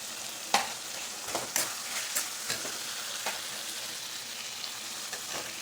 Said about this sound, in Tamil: அடுத்தது நம்ம கட் பண்ணி வச்சுருக்கிற காய்கறி ஆட் பண்ணிக்கலாம்